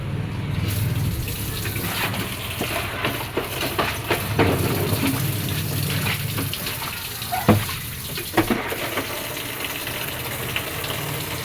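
Tap water gushing steadily into a washing basin on an Egyptian rooftop during laundry and dish washing, a continuous loud splash with a few louder knocks and clatters near the end.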